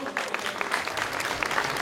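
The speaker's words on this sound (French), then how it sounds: "Sur vos applaudissements." Audience applause at a Miss Petite Junior 2019 pageant evening: brisk, continuous clapping from a crowd, fairly close and moderately loud, over a short stretch.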